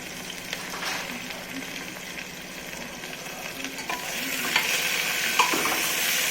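Chopped onion fries in hot oil with cumin and mustard seeds for spiced rice, a continuous close sizzle that swells louder in the second half, with occasional soft stirring scrapes and no talking.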